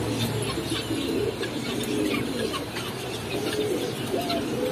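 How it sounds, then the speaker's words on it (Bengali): Mili racer pigeons cooing in a dealer's shop, a steady low murmur of several birds with occasional brighter chirps over continuous background noise. "তার মিলি রেসার কবুতর আছে"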